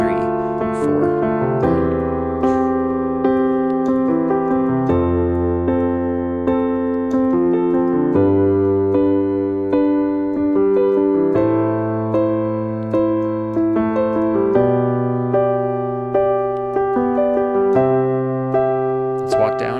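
Piano chords repeat in a steady five-note worship rhythm pattern, shifting to a new chord every couple of seconds, played alone at a moderate volume.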